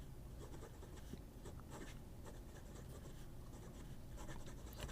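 A fountain pen's nib moving across paper that feels sticky, with the ink skipping and not flowing freely, producing a faint, close, continuous scratching under low background hiss.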